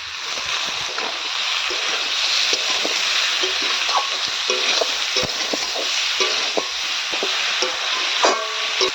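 Fried cauliflower with salt, turmeric, dried chili and ginger paste sizzles in a pan, a continuous bright frying hiss broken by frequent clicks and scrapes of a spoon stirring, close and fairly loud.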